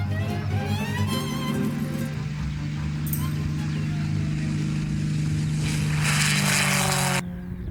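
An aerobatic propeller airplane's engine in flight, a loud sustained droning roar with shifting pitch as the aircraft maneuvers, rising in intensity before cutting off abruptly near the end.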